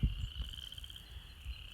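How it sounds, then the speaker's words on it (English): Frogs calling near a cattle pond on a farm, a steady high insect-like trill held throughout with soft low rumbles beneath, fairly faint and without talk. "Frogs are making noise."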